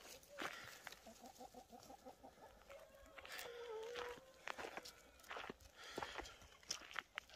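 Light Brahma chickens and roosters cluck in a short rhythmic run of calls close by on a village farm, with footsteps, rustling and scattered handling noises around them and no voices.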